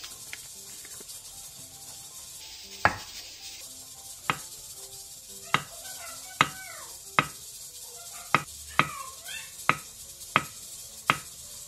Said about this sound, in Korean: 순두부 1개를 절취선에 따라 잘라 꺼내준 뒤 2cm 정도 두께로 통썰기 해주세요